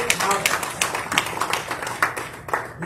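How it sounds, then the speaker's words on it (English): Audience at a school board meeting clapping for a high school athlete, with scattered, uneven claps of moderate loudness and a murmur of voices underneath. "Can we give a round of applause for number 5,"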